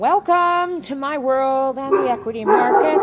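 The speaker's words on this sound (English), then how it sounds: "That's my dog, who also is saying he agrees." A pet dog barks and yips loudly at close range, several sharp, whiny calls in quick succession, overlapping someone talking.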